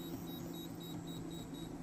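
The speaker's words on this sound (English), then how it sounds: "we're going to set the timer" A kitchen timer being set while balut duck and chicken eggs are cooked gives six short, evenly spaced faint electronic beeps over a low, steady background hum, with no voices.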